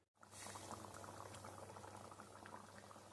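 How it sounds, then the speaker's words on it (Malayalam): Chickpea curry (kadala curry) simmers to a boil in a pot, a dense close bubbling that starts abruptly and holds steady and even to the end. "ഇനി നമ്മളെ കറി നന്നായിട്ട് ഒന്ന് തിളയ്ക്കട്ടെ"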